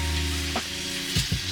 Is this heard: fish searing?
yes